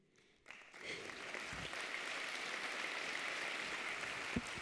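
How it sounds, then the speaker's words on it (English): Audience applauding after a tech talk at the DevFest Nantes 2021 conference, a sustained, fairly faint wash of clapping from a crowd that begins abruptly and continues steadily. "It's so nice to hear claps."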